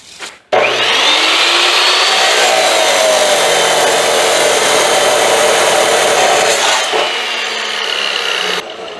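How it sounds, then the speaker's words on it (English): A power tool cuts a 7/8 inch hole in metal for a homemade trailer, a loud sustained grinding whine running steadily for about eight seconds before stopping abruptly, close up. "Cut me a hole in that there metal."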